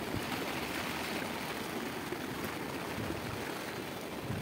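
Floodwater flows beside a bridge under construction during continuous rain, making a steady, dense rushing wash that stays loud and unbroken throughout, with no voices.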